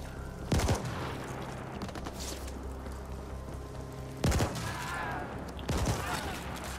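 Three heavy bursts of gunfire in the video game The Ascent, loud and spaced seconds apart over a steady background score and ambience.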